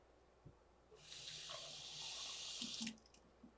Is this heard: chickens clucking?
no